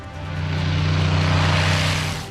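A propeller airplane roars low overhead, its droning engine swelling loud and then beginning to fade as it passes.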